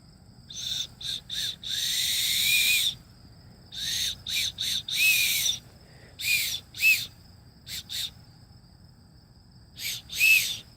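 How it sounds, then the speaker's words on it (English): A handheld bird whistle is blown to call birds, giving a string of short, loud, shrill bursts of varying length in an irregular rhythm, with a few longer warbling blasts, heard close up and alone. "are going to be using this bird whistle right here to call birds to us"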